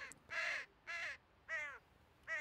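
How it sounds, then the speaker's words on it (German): Ravens cawing in the Die drei ??? video game: four loud, harsh caws spaced about half a second apart, close by over a quiet background. "Immer mehr Raben sind da oben drauf."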